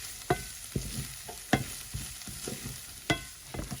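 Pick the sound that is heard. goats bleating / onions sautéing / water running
onions sautéing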